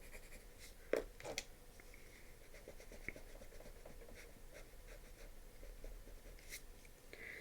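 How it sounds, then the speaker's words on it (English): Pencil scratching across paper during a quiet podcast stream, faint and continuous with a few sharper strokes near the start, no talking. "You guys can probably hear my pencil scratchings."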